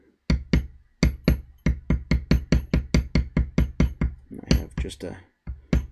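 Textured bevel tool being struck along leather holster edges, a close, steady run of sharp mallet taps, about three per second, briefly interrupted by a spoken line before the tapping resumes.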